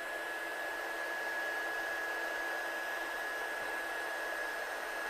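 A heat tool blows a steady, faint hiss with a thin constant whine as it heat-sets embossing powder on a handmade card, with no talking.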